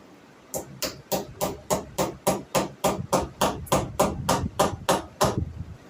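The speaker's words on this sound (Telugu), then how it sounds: "వదులు రాకుండా చక్కగా కొట్టేసి కొట్టేసుకోండి." A hammer strikes steadily about fourteen times in an even rhythm, fastening a stretched cloth banner; each blow is close and sharp, with no talking.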